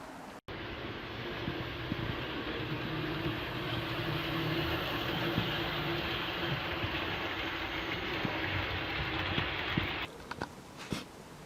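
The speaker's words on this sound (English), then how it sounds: "it's great to just have some trains running" Model trains run steadily on a garage layout, a continuous rolling rumble with light clicking wheels and a thin high whine, ending abruptly after about ten seconds.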